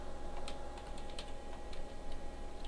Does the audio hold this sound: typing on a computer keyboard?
yes